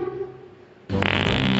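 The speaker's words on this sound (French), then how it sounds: "Tu viens de péter." A loud, sustained flatulent blast starts abruptly after a quiet moment and continues to the end.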